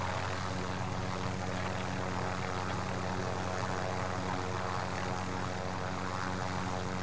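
A helicopter in the Call of Duty: Modern Warfare video game keeps up a continuous droning engine and rotor roar, steady and fairly loud throughout with no voices over it.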